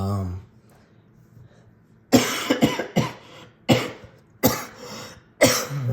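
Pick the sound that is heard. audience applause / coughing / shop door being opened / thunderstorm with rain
coughing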